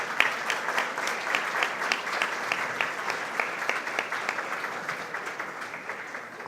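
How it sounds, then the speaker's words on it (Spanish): Steady applause from an audience at a human rights discussion event, a dense wash of many hands clapping evenly throughout, moderately loud and unbroken. "Un fuerte voto de aplausos para él, por favor"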